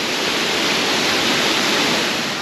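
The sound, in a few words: waterfall at Hareshaw Linn, Northumberland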